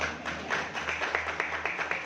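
An audience claps steadily at a Hindi lecture on poetry and psychology in Kanker, with a dense, even patter of hands in a hall for the full two seconds.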